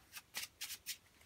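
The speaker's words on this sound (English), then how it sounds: "And I get the shuffle." A deck of trading cards is shuffled by hand, giving four quick, soft riffling bursts close to the listener in a steady rhythm, fairly quiet with no talking.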